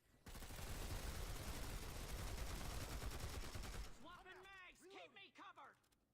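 Sustained rapid gunfire in a team shooter video game rattles for about four seconds, focused on a staircase, then cuts off as a voice speaks.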